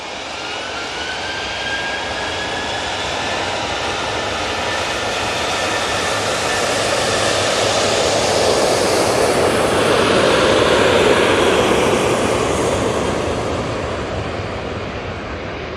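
A KLM Boeing 737 jet at Manchester Airport swells from a broad rushing roar to a louder peak as it passes, then slowly fades, with a thin whine running through the first half.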